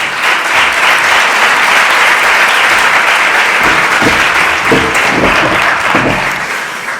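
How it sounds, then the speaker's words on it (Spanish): An audience applauds a guest speaker arriving at a talk in Bormujos, dense sustained clapping from a large crowd filling the room, loud throughout and easing slightly at the end. "Os pido un fuerte aplauso para él"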